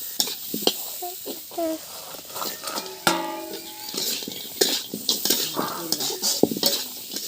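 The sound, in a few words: spices roasting in a pan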